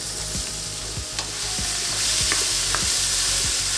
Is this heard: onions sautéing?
yes